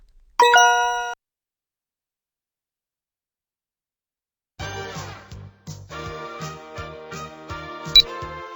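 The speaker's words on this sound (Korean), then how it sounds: "딩동댕. 정답입니다." A bright ding-dong chime marking a correct quiz answer in a lecture on numerical analysis: a short burst of ringing bell tones, then silence, followed by a stretch of light music.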